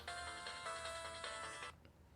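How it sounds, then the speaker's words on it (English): A telephone ringtone plays steadily for almost two seconds indoors in a game room, then cuts off abruptly, leaving quiet room tone. "Phone's ringing, dude."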